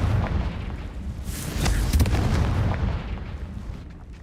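A Confringo spell explosion in a Hogwarts video game lands as a loud, rumbling boom with crackling bursts that fade out over a few seconds, with no voices.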